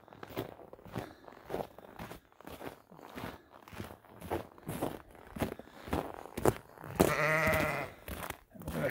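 Sheep and lambs bleat loudly inside a barn at feeding time, a prolonged bleat rising near the end, while footsteps crunch steadily through straw close by.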